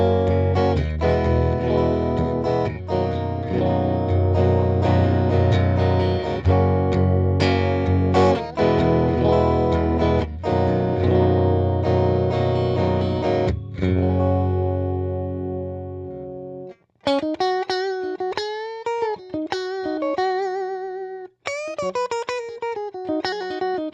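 An electric guitar plays through a 1975 Fender Silverface Champ amp with the pickup selector in the middle position, first as dense strummed chords, then as clean ringing single notes and short phrases, with no hum between them.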